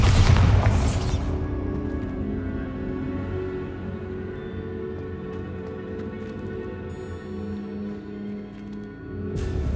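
A Bombarda blasting spell goes off in Hogwarts Legacy, a loud booming burst at the start that rolls into a long sustained rumble with ringing tones, then another sharp blast at the very end.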